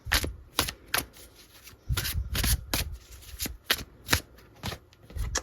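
Tarot cards being shuffled by hand in a series of quick, crisp riffling bursts, some short and some longer, close up with brief pauses between them and no talking.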